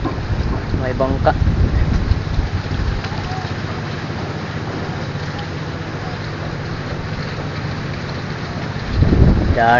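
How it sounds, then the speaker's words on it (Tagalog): Steady broadband rumble of a boat passing along a river near the bank during crab trapping, with wind noise, continuous for the whole stretch; a voice talks briefly at the start and again at the end. "May bangka."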